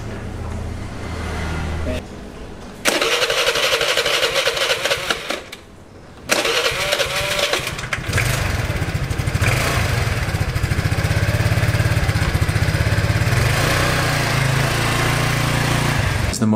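A broken-down motorbike or scooter engine cranks and catches, then runs with a loud, steady rasping drone that dips briefly before revving back up and holding a sustained rough idle near the microphone.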